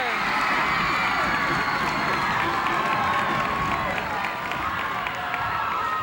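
Loud, steady roar of a packed gym crowd cheering and shouting at a high school boys basketball game in 1990, dense and continuous throughout, with an announcer's voice faintly under the din.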